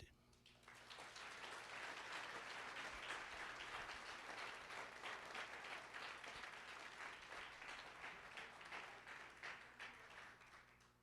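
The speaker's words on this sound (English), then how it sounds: "I would like another round of applause for Ms. Rosie Head." Luncheon audience at a cultural diversity committee event giving a long round of applause, dense steady clapping that swells quickly and holds, heard from within the room.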